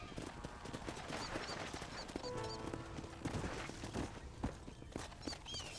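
Horse hooves clip-clop at a walking pace in the Western video game Red Dead Redemption, steady and fairly close, mixed with ambient game sounds, light music and a few background calls.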